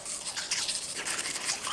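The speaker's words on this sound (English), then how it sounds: "Let's get brushing." Tiny soft-bristled toothbrush scrubbing teeth with mint toothpaste, a steady wet bristly rasp with close, continuous strokes and no talking.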